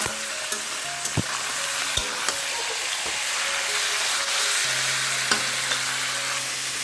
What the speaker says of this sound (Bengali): একটু দিয়ে কিন্তু ভালো করে ভাজবো।